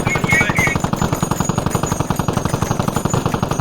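Rapid machine gun fire in the military shooter game Squad, a loud, close, unbroken burst of evenly spaced shots running the whole time.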